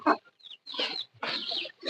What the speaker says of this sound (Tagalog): Ito yung Rhode Island manok.